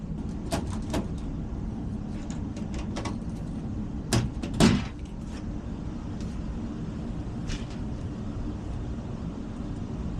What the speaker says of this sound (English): Let's crack these doors off and see what we see.